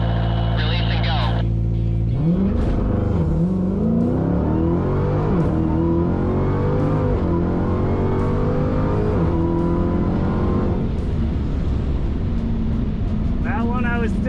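A Dodge Demon launches hard at a drag strip, its engine roaring loud and close with rising pitch sweeps through the gears, after an initial high revving hold, with a voice speaking over the din.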